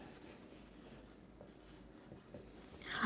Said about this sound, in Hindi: कि हम ये लिखते हैं।